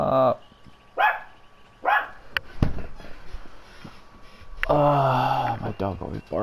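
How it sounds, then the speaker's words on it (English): A dog barks in a home, giving several short, loud barks in a loose rhythm. The barks come through under and between a person talking. "My dog always barks."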